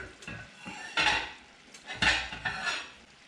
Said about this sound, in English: pull this asparagus out of the oven and start plating some of this up